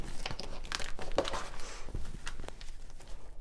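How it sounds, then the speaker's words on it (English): Plastic Ziploc bags from a tie-dye kit are handled close by, giving a run of crisp crinkles and rustles with a few sharper crackles mixed in; no talking. "Oh, some plastic Ziploc bags."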